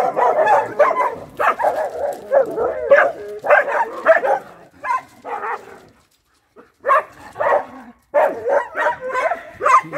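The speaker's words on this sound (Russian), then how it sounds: "А это все лает" A dog barks and yips in rapid, loud bursts close by, with whimpering in between and a brief pause before the barking resumes.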